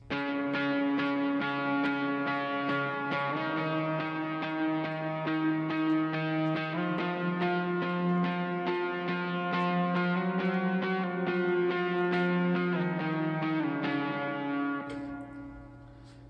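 A distorted electric guitar plays a steady run of sustained octave notes, stepping up and down through a simple repeating pattern, alone and close.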